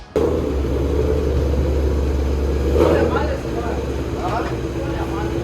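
A deep Shelby engine with a custom Shift-Tech exhaust idles with a steady low rumble, swelling briefly as the throttle blips midway, close by.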